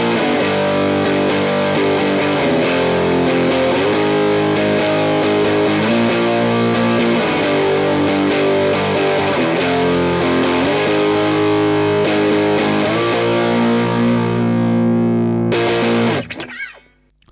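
An electric guitar plays through a Fender Super 60 amp with a Pro Co Rat distortion pedal, loud and thick with gritty sustained chords in a steady strummed rhythm, ringing out alone before fading at the end.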